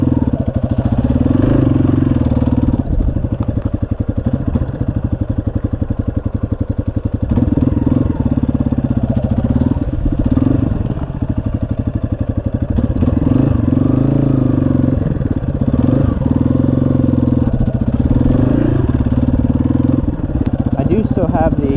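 A Yamaha XT250 motorcycle engine runs steadily on a trail ride, a close, loud mid-range drone with a rhythmic thumping throb that holds for the whole stretch.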